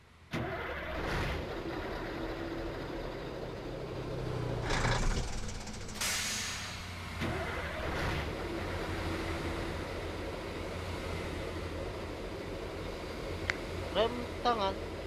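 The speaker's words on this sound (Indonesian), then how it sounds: "Seperti apa sound kanilpotnya?" Hino bus in Bus Simulator Indonesia with a snoring aftermarket exhaust, idling and revving in a continuous low rumble for the whole stretch, with a few brief air hisses cutting in near the middle.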